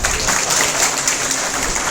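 An audience at a political rally speech applauds steadily, with dense clapping from a crowd holding an even level throughout the short stretch.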